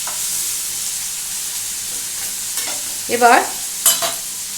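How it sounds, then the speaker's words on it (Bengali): Hilsa fish fries in hot oil in a pan, with a steady low sizzle joined by a few louder crackling bursts near the end; one short spoken word is heard. "এটা যখন এক সাইডে এরকম ভাজা হবে, এটা নিয়ম হচ্ছে এখানে এক সাইডে এটা ভাজা হবে।"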